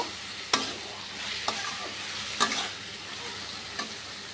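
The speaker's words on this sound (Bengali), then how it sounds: "এবার আমি এতে চিংড়ি মাছগুলো দিয়ে দেব। আর একটু নাড়াচাড়া করে নেব।" Shrimp and bottle gourd being stirred in a frying pan, a steady soft sizzle broken by a few distinct scrapes and knocks of the spoon, close and moderately quiet.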